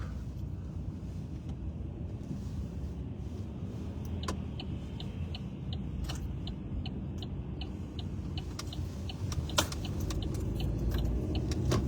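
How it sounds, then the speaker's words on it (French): Heavy morning road traffic in Brussels makes a steady, dense rumble of many cars, with a rapid ticking running through the middle and the noise growing slightly louder toward the end. "La circulation ce matin, ça va pas être comme les autres jours. Il y a beaucoup de voitures."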